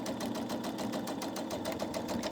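A sewing machine stitches a seam on a stitch-and-flip quilt block, running in a fast, even, rhythmic clatter of needle strokes, close and steady throughout with no voices.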